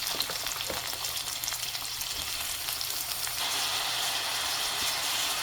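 Bitter gourd frying in hot oil with green chili and onion, a steady dense sizzle with faint stirring scrapes that grows slightly louder partway through, no talk.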